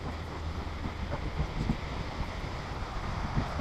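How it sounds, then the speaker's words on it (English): A small woodland stream spills over a tiny waterfall, giving a steady, even rush of water that stays constant throughout, heard from a short distance along a walking trail. "It's a stream. A tiny little waterfall."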